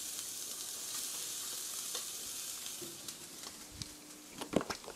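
Sliced eggplant fries in a pan as chopped Welsh onion is added, a steady close sizzle with stirring scrapes and a few louder clatters near the end.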